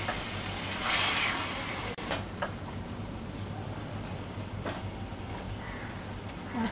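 Onion and coconut masala for a black-eyed pea curry sautéing in a pan, giving a continuous close sizzle with a few sharper crackles and scrapes of stirring along the way.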